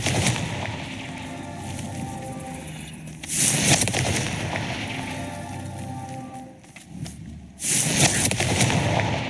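Two loud, sharp explosive blasts from the Confringo fire spell in Hogwarts Legacy, about four seconds apart, each bursting over a steady rumbling game soundscape.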